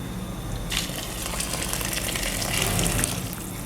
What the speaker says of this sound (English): You can add more water.